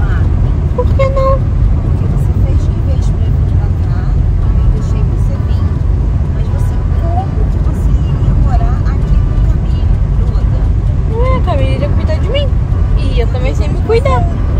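Steady low road rumble inside a moving car, with people talking throughout and occasional faint outside sounds.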